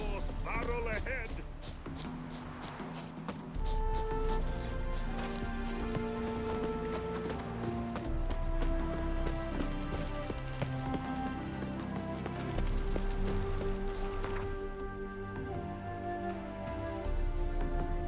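A horse gallops in The Witcher 3, its hooves clip-clopping steadily beneath a loud, continuous game music score with talk over it.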